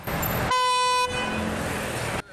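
A car horn sounds in one sustained honk of about half a second, loud and close amid street traffic noise from a road-rage incident involving a sedan and a motorcyclist, with a steady road rumble before and after.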